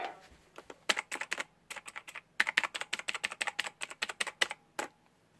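Rapid bursts of key clacks from a Razer BlackWidow Chroma mechanical gaming keyboard, close and fairly loud, in uneven clusters of keystrokes with brief pauses, no talking.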